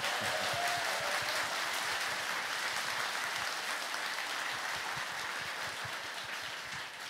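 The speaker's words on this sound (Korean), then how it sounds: "박수 소리가 요란한데 박수는 많이 칠수록 좋습니다." Loud, dense applause from a large audience at a live talk event with author Jo Jung-Rae, a steady roar of many clapping hands that holds for several seconds and eases slightly toward the end.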